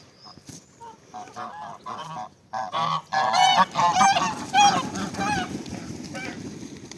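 A flock of geese honk repeatedly, calling close by over outdoor background noise, the honks growing louder and denser midway.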